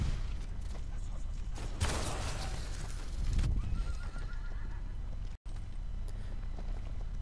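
A horse in the game Paladins gallops with rapid hoofbeats and lets out a loud whinny near the middle, the galloping continuing steadily afterward over background game noise.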